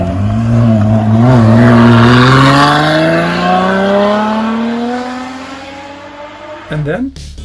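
A Lotus Exige EX460 with its V6 engine revs up loudly while driving on a windy road, the pitch climbing steadily for several seconds before easing off, then a sharp blip near the end.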